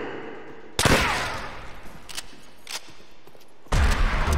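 A Thompson gun fires in bursts in Call of Duty zombies: a loud volley starts sharply, a few scattered shots follow, then another sudden burst near the end.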